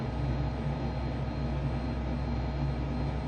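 Eurofighter Typhoon jet engines in a flight simulator near Broken Hill, a dense steady roar with a low rumbling core and broad hiss, continuous and close with no voices.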